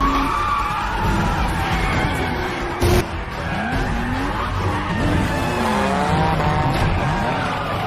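Racing cars drift along a mountain road in a film scene, with loud continuous tire squeal and skidding over roaring engines, the screech swooping up and down through the whole stretch.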